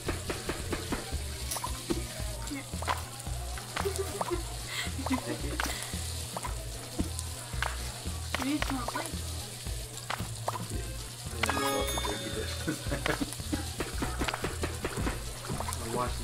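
Beef frying in a pan in the Overcooked cooking video game, a steady sizzle running throughout under a looping music track and bursts of other kitchen effects, with players talking over it.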